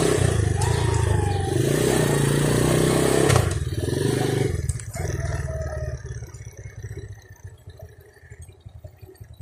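A small motorcycle engine runs steadily and loudly, with a rough rumbling idle and clattering scrapes, then the engine note drops and fades to a quieter, fluttering idle.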